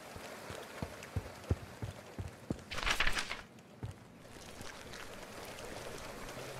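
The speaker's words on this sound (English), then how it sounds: "The sound that I'm walking on this grass sounds like skittering bugs" Footsteps crunch across grass in The Final Station video game, a quiet, irregular patter of short scratchy taps with a brief rustling burst partway through.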